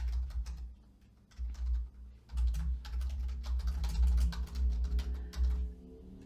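Fingers type on a computer keyboard in rapid, uneven bursts of close clicking keystrokes, with a brief pause near the start and a low hum underneath.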